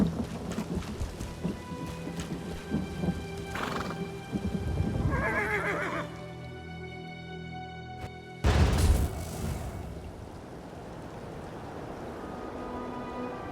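Horses neigh and whinny in the video game Elder Scrolls Online, several loud calls rising over a stormy backdrop of rain and a thunder crack, with hooves clip-clopping between calls.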